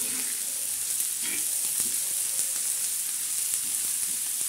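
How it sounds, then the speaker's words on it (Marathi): Chopped onion and garlic fry in hot oil in a pan for an egg bhurji, giving a dense, even hiss of sizzling with faint intermittent crackles, close and steady throughout. "आपण बगारने म्हणजे चांगलं असं फ्राय करून घेणार आहोत कांदा आणि लसूण।"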